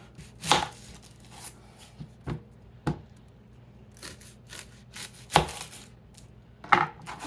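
A knife chopping an onion on a cutting board, sharp separate thunks at an uneven, unhurried pace, close and clear over a quiet kitchen background.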